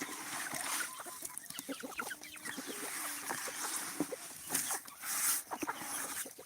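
Chickens cluck softly in a noisy outdoor setting, with scattered calls and background rustling throughout.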